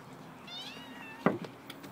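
A kitten gives a single thin, rising-and-falling meow midway, close to the microphone, followed by a brief louder rustle or knock against a quiet indoor background.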